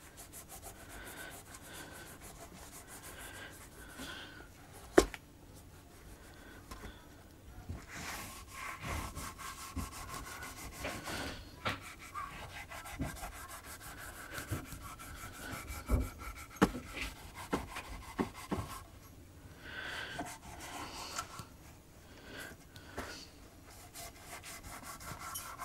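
Oil is rubbed into the back of a guitar by hand and cloth, giving a long, continuous, quiet rhythmic rubbing and scuffing with occasional small knocks and no talking.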